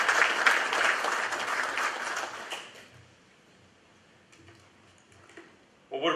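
Loud, dense audience applause welcomes Lieutenant General H.R. McMaster at the KCIS 2015 opening address, holding steady for over two seconds and then fading, with faint scattered claps afterward.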